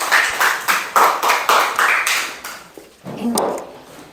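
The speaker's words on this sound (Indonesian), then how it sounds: "Tepuk tangan dulu, kasih aplaus anak-anak." Children in a classroom give a round of applause, with bursts of clapping in a steady, repeated rhythm that fills the room before fading near the end.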